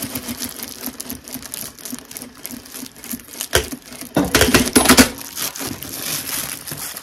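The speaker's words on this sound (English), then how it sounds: "I've got it down and sewing. So I'm going to sew to the end of that." A domestic sewing machine runs a seam in a home sewing room, its steady mechanical whirr and rapid needle chatter continuing throughout and swelling louder for a stretch near the middle, with no talk.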